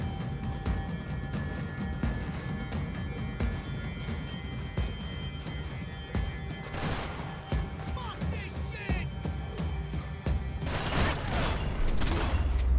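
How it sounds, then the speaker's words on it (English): Rapid bursts of gunfire and crashes from the modded video game Max Payne 3, dense and loud throughout, with voices talking over the action. "Gunfire over Hoboken."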